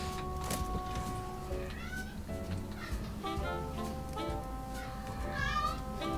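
A cat meows in the video game News Tower, several drawn-out meows rising and falling over game music, with a faint voice underneath.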